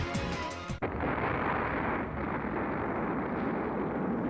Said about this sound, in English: the sound of a massive explosion erupts from just behind me